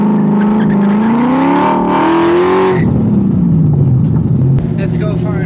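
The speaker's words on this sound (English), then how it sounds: "Engine sounds very healthy, it's pulling really good" Classic car engine accelerating up close, a loud rising drone that climbs in pitch, briefly drops as if between gears, then pulls up again, strong and steady throughout.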